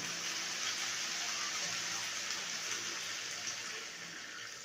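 Water pours into a cooking pot to boil chicken wings, a steady, fairly soft rushing gush that eases slightly toward the end.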